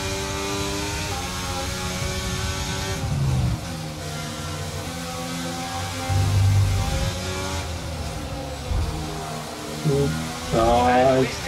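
F1 car engine in the F1 23 racing game revving hard under throttle, a continuous droning whine that rises and falls in pitch with gear changes, steady and close throughout.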